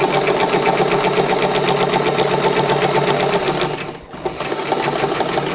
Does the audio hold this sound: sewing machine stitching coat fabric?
yes